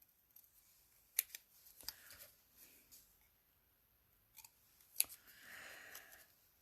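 Paper being cut apart with scissors during an Easter wishes class craft project: a few sharp snips near 1.2, 1.9 and 5 seconds with quieter rustling of paper between them, close and soft, no talking.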